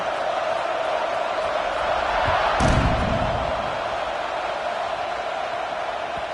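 A college football stadium crowd roars steadily at kickoff in an Oklahoma State versus Oregon game, with a sharp thump from the kick partway through and a broadcast voice talking over the crowd.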